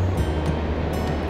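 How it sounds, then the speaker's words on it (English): Ocean waves break and wash steadily onto the shore at Ballybunion, Co. Kerry, on Ireland's west coast. The surf is a continuous, fairly loud rushing roar with no talk over it. "Where were these waves yesterday when I was down the other side?"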